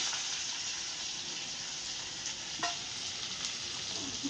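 Mustard seeds crackle and sizzle in hot oil for tempering, a steady close frying hiss with a few sharper pops toward the end.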